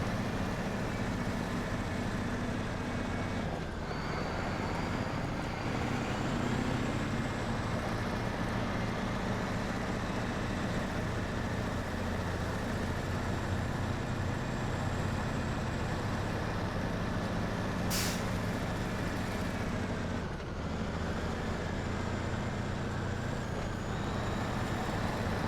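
In the SnowRunner video game a truck drives along, its engine holding a steady, close, continuous drone and rumble throughout, with a few faint clanks and no voices.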